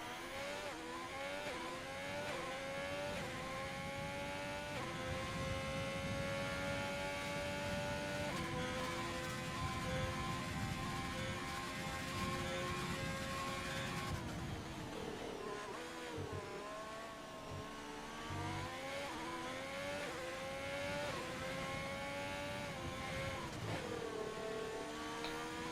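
Onboard racing car engine from a sim racing league round at Italy, a loud, constant high-revving drone with rising pitch sweeps through gear changes and a lift and re-acceleration midway.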